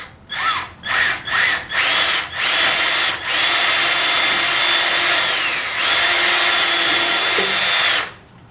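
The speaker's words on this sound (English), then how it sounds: "So I'm just going to start by drilling a pilot hole with a smaller bit in the end there" Power drill with a small bit boring a pilot hole into the end of a wooden piece for a musical instrument storage rack, several short bursts of close, loud whirring followed by a longer sustained drilling run.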